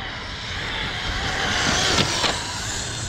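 An Arrma Typhon 6S RC car screams past at high speed, its motor whine rising and sweeping by in a fast doppler pass, close and loud, with no talking.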